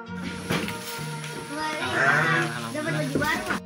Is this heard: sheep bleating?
yes